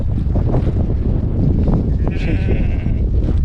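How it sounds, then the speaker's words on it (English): Sheep on the South Downs in Sussex bleat beside a footpath, loud and close amid wind rumble, with one drawn-out bleat standing out partway through. "Bloody sheep, give me dirty looks."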